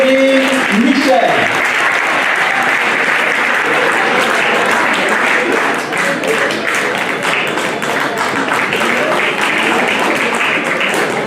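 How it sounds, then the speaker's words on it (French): Audience applause at a live awards event in Paris, a dense, steady wash of clapping from a sizable crowd lasting throughout, after a short bit of speech at the start. "Sous vos applaudissements, s'il vous plaît, Madame Evelyne Michel."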